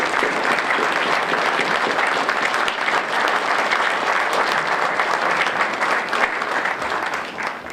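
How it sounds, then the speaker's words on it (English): An audience at a Veterans Day ceremony claps for veterans' families, a loud, sustained wash of applause from a large crowd that holds steady and tapers slightly at the end. "Just give them a round of applause."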